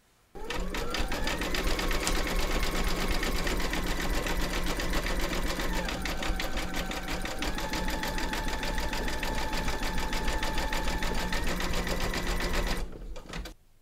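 An embroidery machine zigzag-stitches around the edge of a bunny's head, a fast, steady, loud needle rattle running continuously for about twelve seconds before stopping, with no talking.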